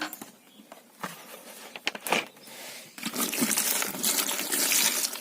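Tap water runs and gushes steadily while eggplant is rinsed by hand, with uneven splashing early on giving way to a louder, continuous flow.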